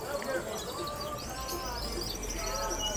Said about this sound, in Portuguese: Muitas aves bonitas.